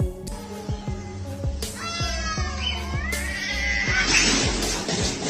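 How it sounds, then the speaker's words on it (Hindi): Two cats scuffle behind a sleeping dog, letting out repeated yowling meows and rising caterwauls over a steady low rhythmic thumping background, loud and close throughout. "सोते हुए कुत्ते के पीछे खड़ी ये दो बिल्लियां एक दूसरे से लड़ पड़ती हैं"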